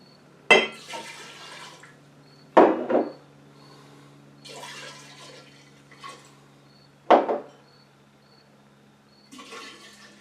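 Sweet potato bourbon pours from bottles into a glass mixing jar in four separate bursts of liquid splashing and glugging, each a second or two long, with faint clinks of glass between them and no talk.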